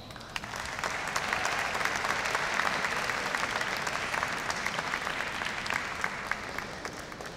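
A large crowd applauds steadily at a high school Class of 2022 graduation commencement, a dense, even wash of clapping held at a moderate level for the whole stretch with no voices over it.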